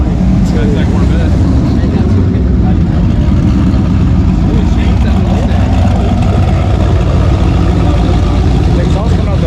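Engine of a 1500 HP twin-turbo Audi R8 at an Ohio car meet, a loud continuous low rumble with exhaust roar held steady throughout, crowd noise and voices blending into the din.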